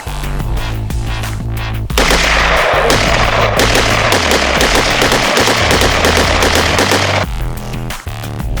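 Rapid strings of close, loud gunfire from a pistol or carbine at a shooting class, shots running together into a dense volley.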